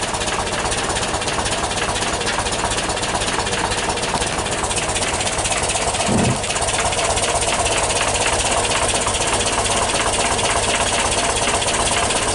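A 1977 VW T2 Camperbus (Kombi) engine runs after a cold start, a loud steady rattling idle with busy clatter that holds throughout, with one brief dip near the middle.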